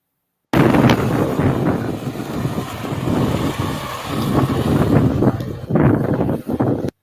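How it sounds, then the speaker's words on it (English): Strong wind buffets the microphone in loud, continuous rumbling gusts, roaring throughout with brief dips near the end. "But real windy day, real windy day."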